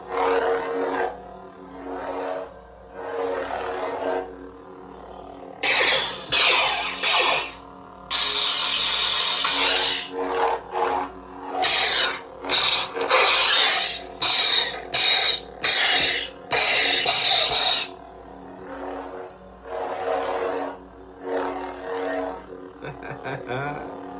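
Warsabers Katarn lightsaber powering on with a loud crackling ignition surge, then several bursts of sharp electronic swings and clashes at close range, with brief hum between them and a few words of talk at the start and end.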